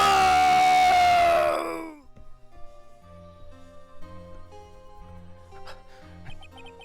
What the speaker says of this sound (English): It's that scream I heard in the elevator 15 years ago